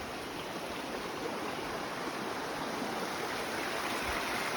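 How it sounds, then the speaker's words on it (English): A stream flows beside a hiking trail to Chimney Pond in Maine, a steady, soft rushing of water that stays even and unbroken from start to end. "Water's flowing good."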